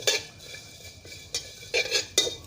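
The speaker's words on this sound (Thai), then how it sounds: "เครื่องเทศใส่ไป คั่วเลยครับคั่วด้วยกันเลย" Spices dry-roast in a pan for homemade Thai larb chilli paste, with a handful of scraping stirs and light metallic clinks of a utensil against the pan over a low background hum, no voices.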